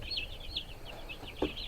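Soft, repeated high chirping clucks from young turkeys, a steady run of short calls close by, with one louder peep near the end.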